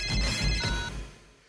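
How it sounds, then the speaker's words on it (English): A phone rings with a bright electronic tone, one ring cycle near and fairly loud, then fades off. "Let's call her. It's ringing!"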